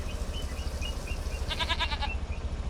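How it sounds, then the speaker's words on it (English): Goats and sheep bleat on a farm, first several faint calls in the distance, then one louder, wavering bleat close by, over a steady low rumble in the background. "let's give the sheep and goats a bit of water"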